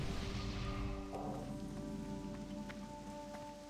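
Steady rain falls in World of Warcraft, a dense hiss of drops on surfaces with a low rumble beneath, continuous and moderately loud, with no one speaking.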